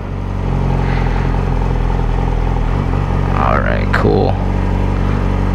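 A Yamaha R6 motorcycle engine runs loud and close during a first take-off, a steady idle rumble with a short rev partway through, while a voice speaks briefly over it.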